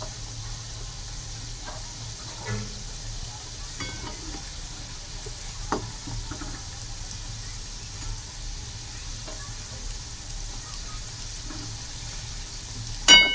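Litti pieces fry in a generous pool of hot oil, giving a steady, soft sizzle broken by occasional pops and small clinks of a utensil against the pan.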